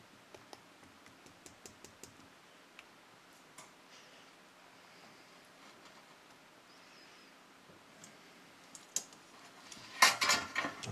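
A knife cuts into cooked Khaki Campbell duck, quiet scattered taps and scrapes of cutlery on a plate or board, ending with a louder cluster of clinks, no voices.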